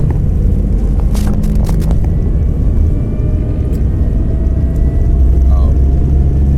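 A car idling at low revs during a driving lesson, giving a steady, close low rumble throughout, with a few brief clicks and faint whines over the top.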